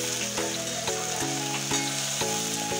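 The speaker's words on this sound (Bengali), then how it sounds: "পেঁয়াজগুলো হালকা করে ভাজা হয়ে গেলে টমেটো কুচিগুলো দিয়ে দেবো।" Onions and tomatoes frying in oil in a wok, a steady close sizzle with a few soft stirring knocks at regular intervals, no voices.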